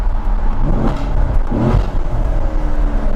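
A 2014 Corvette C7 Z51 engine runs in track mode with a deep, rumbling drone and two brief swells around the middle, close and loud throughout.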